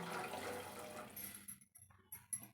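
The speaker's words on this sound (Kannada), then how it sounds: "ಅದೇ ಗ್ಲಾಸಲ್ಲಿ ಒಂದು ಗ್ಲಾಸ್ನ ನೀರು ಹಾಕ್ತಾ ಇದ್ದೀನಿ" A glass of water is poured into a pot of vermicelli payasam already holding milk, a soft, quiet splashing stream for about a second and a half followed by a few faint drips and trickles.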